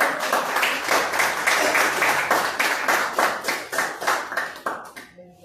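A church congregation claps loudly in a steady, rhythmic beat of many hands, keeping time for several seconds before stopping abruptly near the end.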